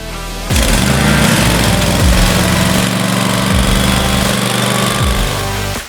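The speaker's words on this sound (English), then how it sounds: "The exclusive 21-inch Propane monodirectional floor grinder," A Titan 530 propane-powered 21-inch monodirectional, gear-driven floor grinder starts up and runs with a loud, steady engine roar and broadband grinding noise, its pitch dipping briefly every second or so.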